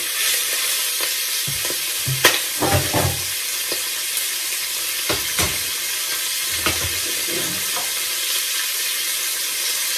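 Beef sizzles in coconut oil in a hot pan, a steady close hiss broken by several scraping stirs, with no talking.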